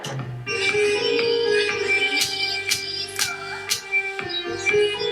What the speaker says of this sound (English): This is the mridangam.